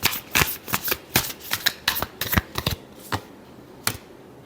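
Tarot cards are shuffled close up in a quick run of crisp, riffling bursts that thin out into a few final slaps and then stop.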